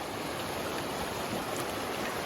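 Steady rush of a river flowing beside a hiking trail in Washington, a soft continuous wash of water heard alone at moderate distance.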